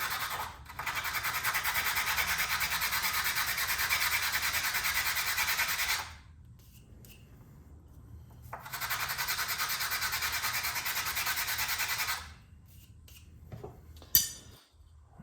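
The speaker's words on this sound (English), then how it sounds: "So what I do, take it to my sandpaper." A knife's partially tapered tang is rubbed along sandpaper by hand in two long steady stretches of scratchy, rasping strokes, close and loud, separated by a pause and followed by a brief clatter.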